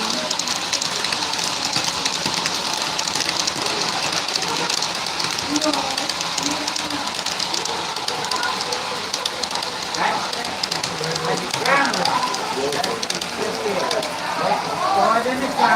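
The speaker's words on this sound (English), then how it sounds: "That train." A model railroad train runs at the South Florida Fair, its steady rolling clatter mixed into a busy fairground wash of crowd noise, with voices chattering nearby throughout.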